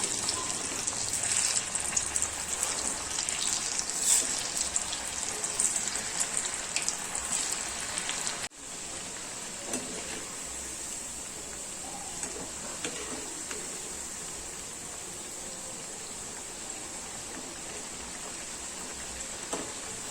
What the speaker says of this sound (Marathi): आता आळूवडी तळून घेते